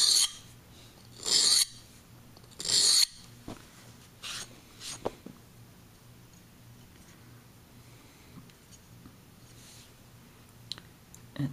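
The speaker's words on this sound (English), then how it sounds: "I'm going to take a couple of strokes to remove this very thick burr on this same stone" A blade is drawn across a sharpening stone to remove a thick burr in three loud rasping strokes, then lighter scrapes and clicks trail off into near quiet, close up and without talking.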